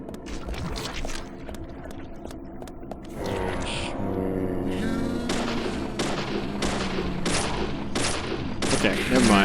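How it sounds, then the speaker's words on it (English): Rapid gunshots fired at barrels in the game Deadly Premonition, a string of sharp cracks and thuds that grows denser and busier toward the end, with game ambience and a faint voice underneath. "I can probably make this work just by shooting the barrels"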